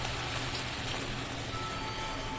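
Water squeezed by hand from shredded cabbage that has soaked in salted turmeric water, heard as a steady, close trickling and splashing hiss with no pauses and no voices.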